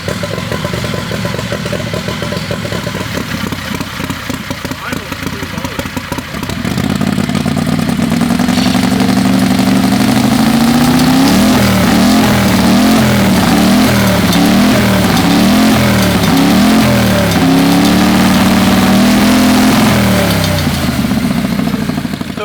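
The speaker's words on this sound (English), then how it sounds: "we fired up the engine to hear it run one last time before loading up" A quieter mechanical whir gives way to a loud turbocharged 670cc dragster engine idling close by, its lumpy, throbbing rumble continuing steadily.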